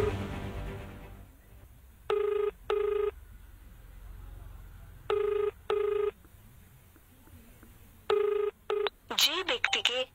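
A telephone rings out unanswered in repeated paired bursts of electronic tone, three cycles spaced a few seconds apart, followed by a short warbling electronic signal at the end; an indistinct voice is heard faintly at the start.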